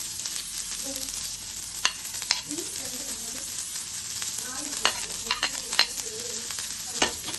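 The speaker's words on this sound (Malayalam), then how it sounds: "ഉള്ളി പച്ചമുളക് കൂടി ഇട്ട് കൊടുത്ത് ഒന്ന് സോട്ട് ചെയ്യണം." Garlic, ginger, onion and green chili sauté in a hot pan, with a steady sizzle throughout and scattered sharp clicks and scrapes of a spoon stirring, close and clear with no talking.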